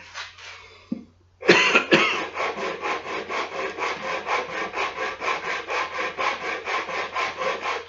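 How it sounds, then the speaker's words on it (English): Hand sanding hardened wood with sandpaper for a chess and backgammon board: a close, loud, rhythmic back-and-forth scrubbing repeats steadily for several seconds, after a brief cough and a short pause. "Okay, so we get the sandpaper."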